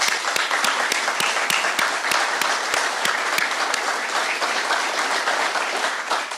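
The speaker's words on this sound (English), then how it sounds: "I think we should all give her a special round of applause" A small audience at a Door County rural internet expansion event with AT&T and Governor Evers claps steadily, with some individual sharp claps standing out near the microphone, continuous and moderately loud.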